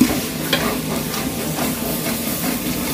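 A large pot of chicken biryani base, oil with yogurt added, is stirred, giving a steady wet scraping and bubbling sizzle with soft rhythmic strokes throughout.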